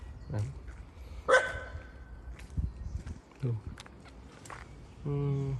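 A dog barks in short, sharp bursts outdoors near monkeys, a few separate yaps spread through the clip over background movement and rustling, moderately loud.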